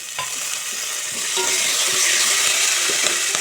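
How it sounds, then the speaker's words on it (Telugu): Onions and curry leaves fry and sizzle in a pan with steady, bright crackling and occasional stirring clinks throughout, close and fairly loud, with no talking. "అలాగే ఉల్లిపాయలు కొంచెం ఫ్రై అయినాయి ఇందులోనే రెండు రమ్మలు కరివేపాకు"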